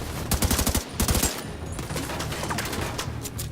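Gunfire in The Division 2: rapid automatic bursts of close, loud shots in quick succession, followed by a steadier stretch of continuous firing and battle noise.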